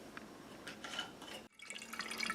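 Summer berry mead being bottled at home, liquid trickling and splashing faintly into a bottle, a soft steady pour broken by a brief pause before resuming.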